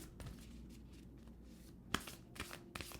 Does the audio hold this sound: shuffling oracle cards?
yes